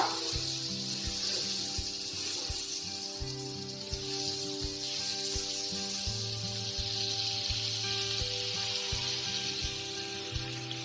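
Butter sizzling on a heated tawa, a steady, fairly quiet hiss that continues unbroken, with low thumps and rumble beneath it.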